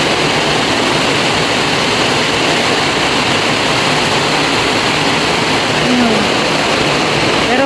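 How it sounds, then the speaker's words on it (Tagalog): Sudden heavy rain pouring down onto a house roof, a loud, dense, unbroken roar that holds steady from start to finish. "Biglang buhos."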